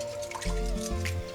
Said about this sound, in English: The water splash.